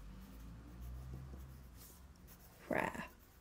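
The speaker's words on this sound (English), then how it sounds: "Just going to write at the top, five" A pen writes on paper in a quiet room, faint scratching strokes followed by one brief louder scrape near the end.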